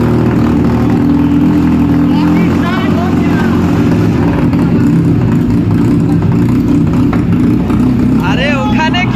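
An Apache RTR 180 motorcycle fitted with a double silencer exhaust runs with a loud, steady low engine drone throughout, while several people talk nearby over it.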